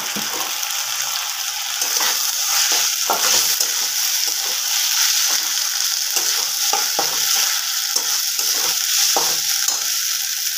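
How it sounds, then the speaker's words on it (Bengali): Ginger garlic paste sizzles steadily in hot oil in a pan while a spoon scrapes and stirs it in repeated short strokes, loud and close with no talking. "এখন আমি এর মধ্যে দিয়ে দেব আদা রসুনের পেস্ট।"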